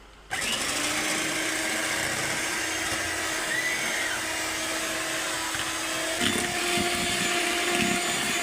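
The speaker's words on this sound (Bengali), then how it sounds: "এটা আমি এই হ্যান্ড বিটার দিয়ে একটু বিট করে নেব" An electric hand beater whisks eggs into foam for sponge cake at a cake seller's stall by Narail railway station, a steady motor whine starting abruptly and running continuously, its pitch shifting slightly partway through.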